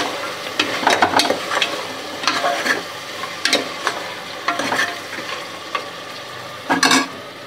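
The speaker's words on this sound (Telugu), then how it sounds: "ఇది కూడా ఒకసారి తిప్పుకుంటాం" Cumin, cinnamon and clove spice paste being stirred in a hot sizzling pan for goat leg paya curry, with repeated scraping strokes of a spoon over steady frying crackle, close and fairly loud, no talking.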